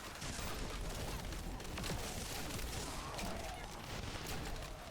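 Dense, continuous gunfire and explosions from a scout gun in the shooter video game The First Descendant, a loud, unbroken wash of rapid shots with no clear gaps.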